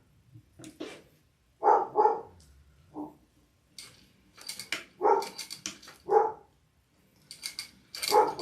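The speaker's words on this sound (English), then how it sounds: "Sorry for the barks. Must be something in the backyard." A dog barks in a backyard during an indoor sewing session, several loud separate woofs in short bursts at close range with no talk over them.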